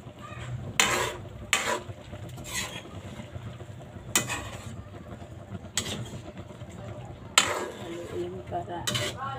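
Metal spoon stirring leftover vegetable stew with string beans in a cooking pot, several sharp clinks and scrapes against the pot at irregular intervals over a low simmering hiss, close and fairly loud.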